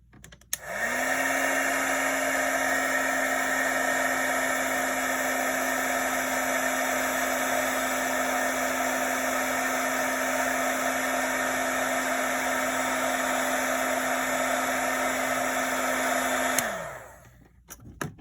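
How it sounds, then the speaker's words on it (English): A handheld craft heat tool runs continuously for about fifteen seconds while heat-setting a decoration, a steady loud whirring blower hiss with a constant motor whine that starts abruptly and winds down at the end, with no talking. "So let's just grab this heat tool."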